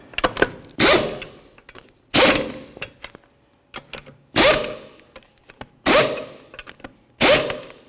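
An impact gun drives lug nuts down onto the studs of a Mercedes-Benz E350 rear wheel in six loud, close rattling bursts at regular intervals, separated by softer clicks and clatter.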